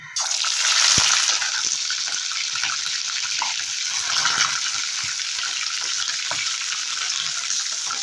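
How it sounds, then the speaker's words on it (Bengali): Chicken pieces frying in hot oil for an egg chicken curry, a steady bright sizzle with occasional stirring clatters, close and loud, with no voices. "তেলটা গরম হয়ে গেছে এবারে মাংসগুলো ভেজে নেব"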